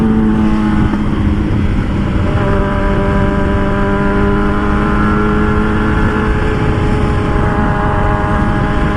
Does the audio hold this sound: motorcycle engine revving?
yes